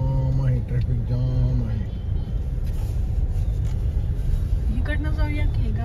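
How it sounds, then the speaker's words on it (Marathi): Idling and creeping vehicles in a road traffic jam near a crowded festival area, a steady close engine rumble with bus-like drone, and people talking over it throughout. "ट्रॅफिक जाम आहे."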